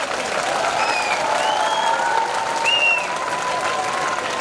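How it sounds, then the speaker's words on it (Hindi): Children clapping together at a school annual function, a steady, fairly loud wash of applause that fills the whole moment, with faint whistles and voices mixed in. "बच्चों तालियां हो जाए एक बार"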